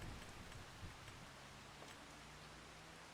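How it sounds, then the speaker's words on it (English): Steady rain falling in a video game world, a continuous soft hiss of drops at a constant level with no let-up, plus a faint low hum underneath. "And it's still raining."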